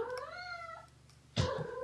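A pet cat meows in a long drawn-out wavering call, then after a brief pause gives a louder, sharper second cry, close up with no talking.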